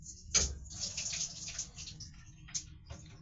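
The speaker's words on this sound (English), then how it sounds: "I just put some water on it." Water poured onto a surface to soak it while cleaning, soft splashing and trickling in short faint bursts, with a sharper splash near the start.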